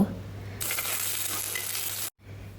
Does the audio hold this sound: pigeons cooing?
no